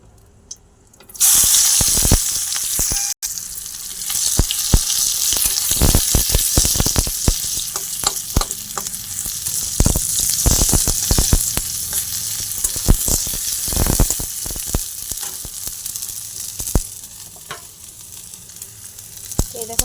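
Chopped onion hits hot oil in a wok, already seasoned with whole cumin, and bursts into a loud, steady sizzle with frequent sharp crackles and spatters that continue throughout.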